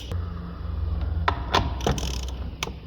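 Ratchet clicking on a 13mm bolt at the battery of a Mercedes C200 W205, a few short bursts of close, sharp metallic ticks with brief pauses between them.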